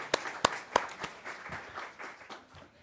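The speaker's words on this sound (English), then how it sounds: "Let's give them a round of applause" A congregation at a Sunday church service breaks into applause: a few sharp, close claps open it, then scattered, lighter clapping thins out and fades.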